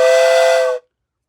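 A wooden replica of the N&W 611 steam locomotive whistle is blown once, giving a loud, steady chord-like toot that holds for under a second and then cuts off abruptly into silence.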